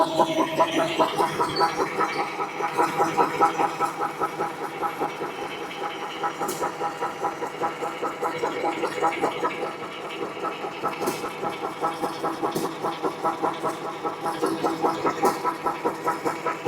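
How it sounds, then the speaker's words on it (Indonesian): A multifunction pellet mill machine driven by an electric dynamo hums steadily with a fast, even mechanical pulse, a continuous smooth whirr with occasional faint clicks and no break in the running. "untuk mesinnya ini halus ya teman-teman, tidak berisik karena untuk penggeraknya kita pakai dinamo"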